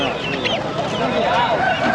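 Black Kadaknath chickens cluck and squawk continuously at a busy poultry market, several birds overlapping close by, with people talking underneath.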